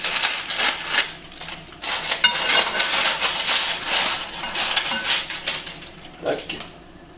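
Scissors snip away excess bread dough made with semi-wholemeal flour, giving a string of quick metallic clicks and light scrapes against a dish at close range.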